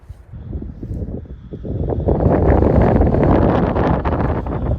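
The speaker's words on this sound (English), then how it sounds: "And the wind has picked up here." Strong wind gusts on a jagged mountain peak near Los Angeles at night. The roar starts moderate and swells to a loud, steady buffeting of the microphone, heard alone.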